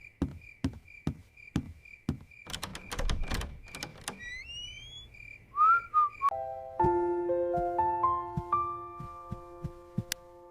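A series of bright whistle tones from a small silver whistle, sliding and then held as steady pitches, follows a run of soft rhythmic knocks and a rustling burst.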